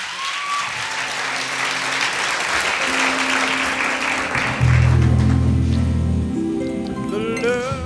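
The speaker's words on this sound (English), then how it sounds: "Let's hear it for Kappa" Audience applause at a gospel concert, a full crowd clapping steadily and loudly throughout, with a sustained musical tone rising beneath it partway through.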